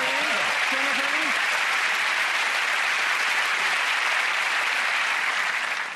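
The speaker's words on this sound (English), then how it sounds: "Thank you for that round of applause." Audience at a magic performance bursting into sustained applause after a trick, a thick, even roar of clapping lasting several seconds, with a brief voice speaking over it at the start.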